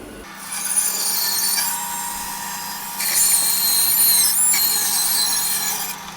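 A bandsaw fitted with a 4 teeth-per-inch, half-inch-wide blade cuts through a half-log of ripple ash, a steady loud whine and rasp that swells at about the three-second mark and holds to the end, with no voices.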